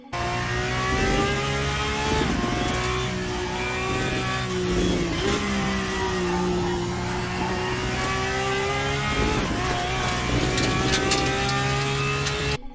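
Porsche race car engine in the RaceRoom sim, revving hard and loud through gear changes as it drives a lap, with pitch rising and dropping steadily throughout and no talk.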